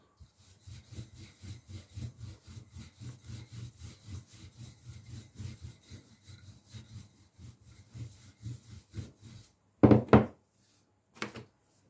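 Gözleme dough for spinach gözleme is rolled out on a wooden surface, a rhythmic back-and-forth rubbing of the rolling pin repeating steadily at close range, ending with a couple of louder knocks and thuds.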